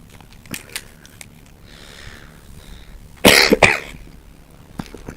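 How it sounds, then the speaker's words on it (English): A single harsh cough through a robotic Dalek-style voice modulator bursts out midway, sounding processed and metallic, surrounded by faint clicks and quiet room noise. "Dalek with a cough."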